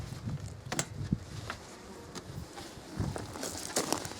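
Honeybees buzz softly and thinly around a neglected hive that is open for inspection. Scattered crackles and knocks from the frames being handled sound close by.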